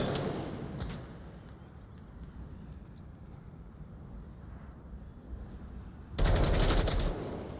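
Gunfire in the VR shooter Onward during a competitive match: faint scattered shots in the background, then a loud close burst of rapid automatic fire near the end.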